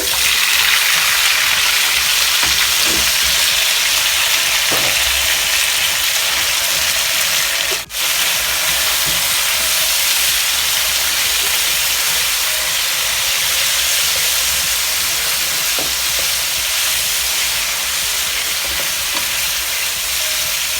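Cut potatoes frying in a pan, giving a steady, close, hissing sizzle that runs unbroken for about twenty seconds with only a momentary dip partway through.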